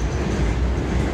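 A Norfolk Southern hopper car on a freight train rolls past close by, a loud, dense steady rumble of wheels on rail with a rough clatter underneath.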